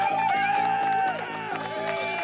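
A canned applause-and-cheering sound effect on a livestream: a short burst of crowd clapping and whoops that runs steadily for about two seconds, mixed with tonal, music-like layers.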